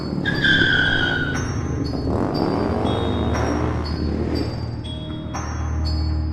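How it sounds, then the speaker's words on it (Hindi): A motorbike carrying riders pulls away in a Gulli Bulli horror cartoon, with a cartoon-style engine whine and skidding squeal, loud and close, over a bed of tonal music and effect beeps. "गुल्ली बुल्ली और रॉड एक बाइक पर सवार हो जाते हैं और बाइक लेकर वहाँ से जाने लगता है।"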